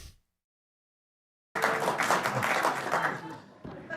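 Studio audience applause on a late-night talk show, bursting in after a brief silence and holding as a full, steady clatter of clapping before dipping near the end.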